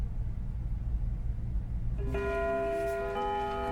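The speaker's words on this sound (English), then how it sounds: "When the lunch bell rings, everything seems to happen at once." A school lunch bell chimes in a visual novel game, a clear set of sustained tonal bell notes that starts about halfway through and rings on steadily to the end over a low background hum.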